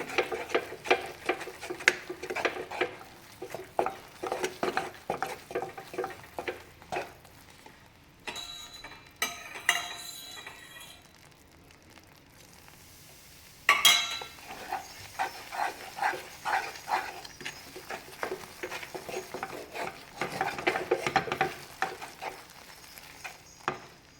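A spoon stirring thick Mysore pak mixture in a pan, scraping in quick repeated strokes that pause briefly midway before resuming, close and fairly quiet with no talk.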